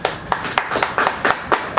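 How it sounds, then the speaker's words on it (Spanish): An audience claps steadily to welcome a speaker at an oratory lecture, a dense continuous applause with individual hand claps standing out, close and loud. "recibamos con fuertes palmas al doctor Miguel Ángel Garibaldi Latorre"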